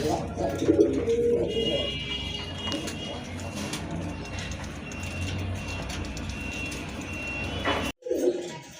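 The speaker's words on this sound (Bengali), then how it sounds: "দেখার মতো এক জোড়া কবুতর" Pigeons coo softly and repeatedly nearby at a pigeon sale, their low murmuring calls running under background noise and a person talking.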